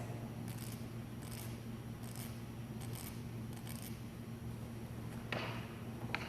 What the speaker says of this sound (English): Have you ever listened to a cricket? They sound something like this.